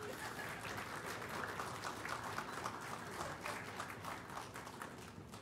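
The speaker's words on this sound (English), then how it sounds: "Let's give them a round of applause." Audience applause rolls on steadily as a dense, distant wash of many hands clapping at a higher education leadership event, fairly faint and without talking.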